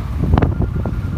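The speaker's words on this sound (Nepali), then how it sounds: "चिसो हावा चलिरहेको छ" Cold wind gusts past the microphone outdoors, a loud rough rumble with a brief stronger buffet in the middle.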